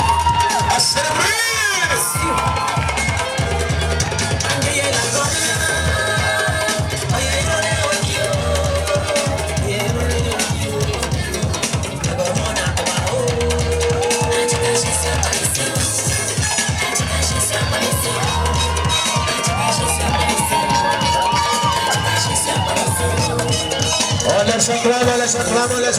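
A large crowd at a church thanksgiving ceremony cheers, whoops and shouts without pause over a steady, thumping musical beat, loud and close throughout.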